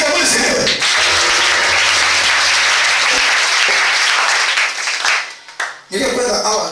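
Applause acclaiming the Lord at a religious gathering, a loud, dense sustained burst of clapping from a crowd that dips briefly near the end before swelling again.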